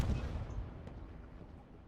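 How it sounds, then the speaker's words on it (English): Video game airstrike bombing run explosions boom in a heavy low burst that fades away over two seconds, distant and rumbling with no voices over it. "bombing run coming in"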